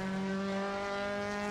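A Honda S2000 in Assetto Corsa holds a steady, even-pitched engine drone, fairly quiet and alone, with no rise or fall in revs.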